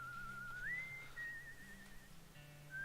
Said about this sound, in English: whoever's whistling needs to quit.